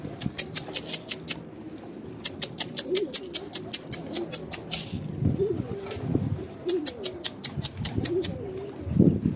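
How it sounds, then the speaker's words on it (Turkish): A young pigeon coos softly in a coop, its low burbling calls repeating under bursts of rapid, crisp ticking and clicking. "Yavru kuş ya."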